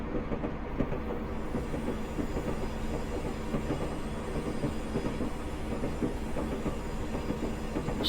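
Rolling stock of a Class 37/4 diesel train in Train Simulator Classic runs at low speed on the approach to Glenfinnan station, giving a steady, close rumble of wheels on track with faint clatter over points and no talk.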